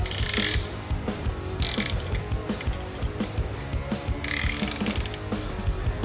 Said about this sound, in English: So basically it's just a little ratcheting setup.